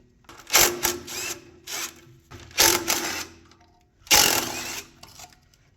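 Bursts of a ratchet or power tool spinning out the 10 mm bolts holding the O2 sensor heat shield on a Honda Accord, four short loud runs separated by pauses, close up with no talking.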